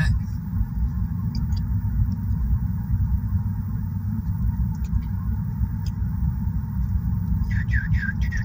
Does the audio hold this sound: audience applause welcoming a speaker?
no